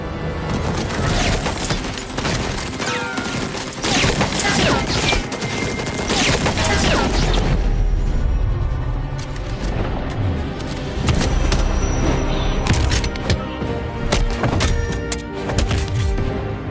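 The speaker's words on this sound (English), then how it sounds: "Hey, you guys hear that? It sound like gunfire." Dense gunfire in an action movie crackles continuously for the whole stretch, with rapid bursts, booms and thuds stacked into a loud, near wall of shots. Faint voices are buried in the din.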